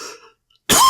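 A person gives a sharp, loud throat clear and cough close to the microphone at the very end, after a brief breathy sound and a near-silent pause.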